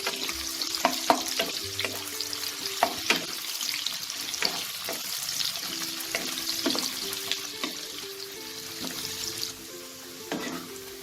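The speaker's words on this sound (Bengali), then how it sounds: "এবার এই পেঁয়াজগুলো থেকে বেরেস্তা বানিয়ে নেব।" Four medium chopped onions fry in white oil for birista, a steady close sizzle broken by repeated scraping and stirring clinks of a utensil against the pan.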